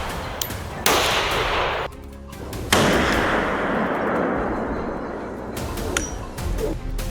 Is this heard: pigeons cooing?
no